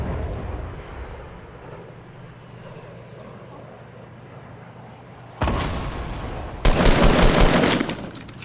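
Gunfire in a shooter video game: a low ambient rumble gives way to a sudden loud burst of shots, then a second, stronger rapid volley that runs until the end.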